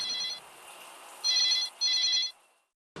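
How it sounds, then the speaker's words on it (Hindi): A phone's electronic ringtone rings in bright, trilling bursts, one short ring and then two longer ones close together, clear and fairly near before it cuts off. "अरे फोन बज रहा है"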